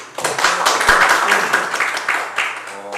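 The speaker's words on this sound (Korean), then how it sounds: "박수 한번 부탁드리겠습니다" A short burst of applause from a room full of people at a political debate, dense clapping that swells and then tapers off.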